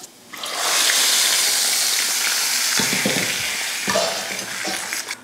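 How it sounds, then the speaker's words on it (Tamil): A loud burst of sizzling as hot oil tempering with mustard seeds and curry leaves hits drumstick rasam, settling into a steady hiss with a couple of clinks from stirring. "இப்போ இதை ரசத்தில் ஊற்றிடலாம்"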